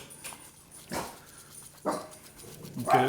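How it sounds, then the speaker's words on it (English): A dog barks a few times at irregular intervals, fairly close, with a quiet word spoken near the end. "Sorry for the dog barking"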